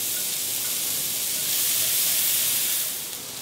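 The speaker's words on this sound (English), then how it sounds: "I'm gonna start with about 2 tablespoons of butter. And add my shallots." Shallots sizzle in about two tablespoons of butter in a pan over leftover fond, a loud, steady bright hiss that swells slightly midway and eases toward the end, close and uninterrupted.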